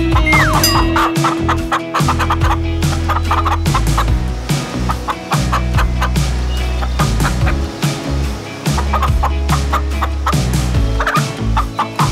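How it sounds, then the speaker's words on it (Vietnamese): Free-range black chickens cluck and squawk continuously in a farmyard, several birds calling close by in busy overlapping bursts, with a loud, steady low rumble underneath. "gà này là gà đen chuẩn rồi"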